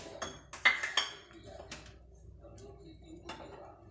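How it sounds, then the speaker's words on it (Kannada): Garlic cloves dropped into a vessel while making a coconut-and-ginger chutney: a brief cluster of light clinks and ticks near the start, then quieter handling, with a faint voice in the background. "ಎರಡು ಗೆಡ್ಡೆ ಬೆಳ್ಳುಳ್ಳಿನ ಬೇಳೆ ಮಾಡಿಟ್ಕೊಂಡಿದ್ದೀನಿ ಬೇಳೆ ಹಾಕ್ಕೊಳ್ತಾ ಇದ್ದೀನಿ"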